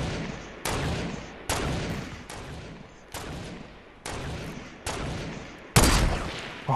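Repeated gunfire in the Fortnite video game, about eight sharp shots spaced roughly a second apart, each with a long decaying tail, loud and close with no talking.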